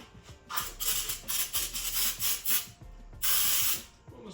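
Engine parts from a small block Mopar being wiped clean with brake cleaner, bursts of rubbing and hissing spray in several rhythmic strokes, close and fairly loud with short pauses between.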